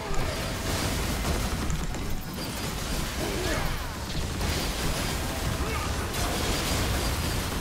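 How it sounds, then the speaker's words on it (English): Magic missile spells hitting with critical strikes while playing Brand with Shadow Flame in a video game: a continuous barrage of crunchy, crashing impact effects, loud and dense with no break. "These missiles are critting because I have Shadow Flame."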